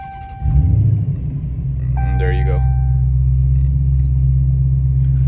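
A Dodge Hellcat's supercharged V8, misfiring from a spark plug fault, cranks and fires with a loud rumble, then settles into a steady, deep, close idle while someone speaks briefly over it.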